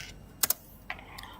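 A few sharp keystrokes on a computer keyboard, a quick double tap followed by one more click and a faint last tap, close and clear against a quiet background.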